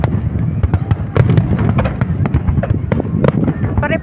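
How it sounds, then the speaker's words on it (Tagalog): New Year fireworks burst over a residential area of Busaiteen, Bahrain, in a dense run of close, loud pops and crackling bangs, with people talking and cheering underneath. "Ito yung area na may fireworks din dito."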